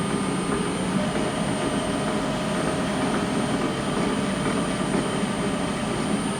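A wood lathe runs at about 800 RPM, a steady, loud mechanical whir and rumble that holds even throughout without speech.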